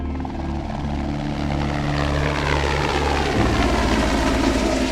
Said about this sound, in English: they have to do the flyby of the helicopter